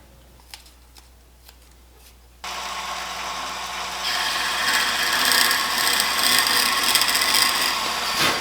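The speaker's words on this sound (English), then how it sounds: "So we got to drill a hole" A few light taps, then a power drill starts up and bites into wood, boring an 11/32 hole, its grinding whine growing rougher and louder as it cuts.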